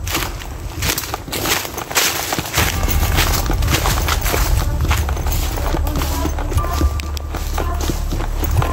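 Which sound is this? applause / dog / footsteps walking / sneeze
footsteps walking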